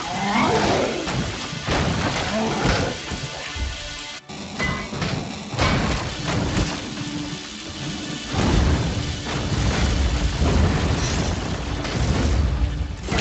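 In the online battle game Panzar, a teleporter is blown apart amid a loud, dense roar of explosions and rumbling combat noise that continues without pause, with a brief dip partway through before the chaos surges again.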